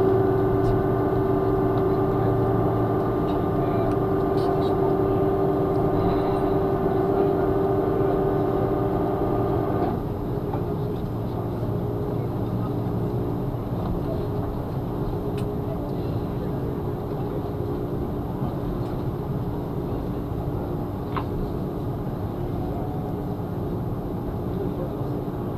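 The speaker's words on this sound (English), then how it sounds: "We'll be taxiing for the next few minutes" A steady low rumble fills a Hawaiian Airlines airliner cabin as it taxis after landing in Honolulu, with a tonal hum that drops away partway through, leaving a softer continuous engine drone.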